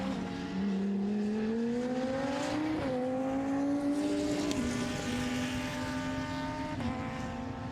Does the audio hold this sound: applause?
no